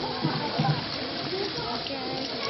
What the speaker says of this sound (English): It's filling up with water.